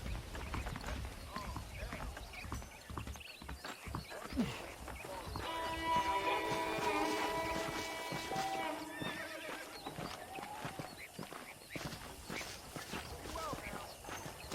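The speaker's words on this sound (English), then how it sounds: "The horses are saddled up over here." Horses clip-clop and whinny in Red Dead Redemption, hoof steps running steadily throughout alongside a spoken voice and a swell of background music in the middle.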